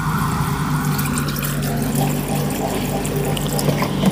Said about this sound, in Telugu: ఈ ప్యూర్ వాటర్ తీసుకుంటున్నా చూడండి